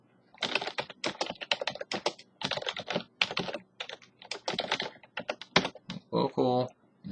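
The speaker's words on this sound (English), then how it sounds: "If I can type." Rapid computer keyboard typing while entering router IPv6 configuration, dense clusters of close, crisp keystrokes with brief gaps, a voice speaking briefly near the end.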